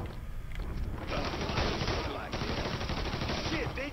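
Rapid bursts of gunfire from a firefight in the video game Mafia 3, loud and dense, with clustered automatic shots carrying through the whole stretch.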